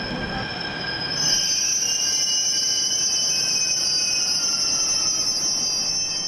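A Delhi Metro train rolls past with a steady rumble, its wheels letting out a long, high-pitched squeal on the rails.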